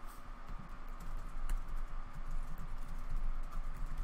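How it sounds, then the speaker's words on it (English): Two people type on computer keyboards during an online card game draft, producing soft, rapid, overlapping key clicks over a faint steady hum, with no talking. "Oh, we're both typing."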